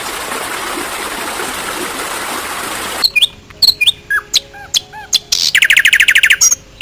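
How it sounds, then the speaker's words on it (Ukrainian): A steady wash like a trickling stream gives way to a nightingale singing varied bright whistles, chirps and rapid trills, close and clear. "А це співає пташка соловейко."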